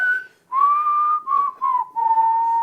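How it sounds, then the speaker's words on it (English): A person whistles a tune up close and loudly, in several sustained, clear notes separated by brief pauses, alone with no other sound. "Check out the whistle."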